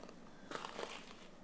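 A close, crisp crunch of teeth biting into a crunchy cocoa snack during a kitchen tasting, with a short burst of crackling bites in the middle of an otherwise quiet moment.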